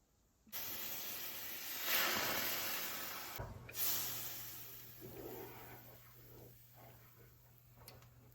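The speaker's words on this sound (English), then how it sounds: "I'm gonna deglaze the pan with milk." A hot pan deglazed with milk bursts into a loud hissing sizzle that swells, briefly dips and surges again, then slowly fades to a quieter simmer with faint clicks.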